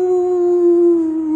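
A person's voice imitates a jackal's howl as one loud, sustained, steady-pitched wail held for over a second.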